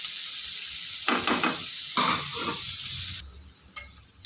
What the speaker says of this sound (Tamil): ரெண்டு பெரிய வெங்காயத்தை பொடியாக நறுக்கி வச்சுருக்கேன் இது நல்லா வதங்கி வரட்டும்